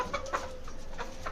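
Chickens in an aviary clucking in short repeated calls at close to moderate distance, with a faint steady hum underneath.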